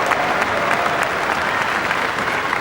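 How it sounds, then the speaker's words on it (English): A football crowd cheers and applauds loudly and continuously during a match, a dense, close roar of clapping with no break. "The crowd urging him on."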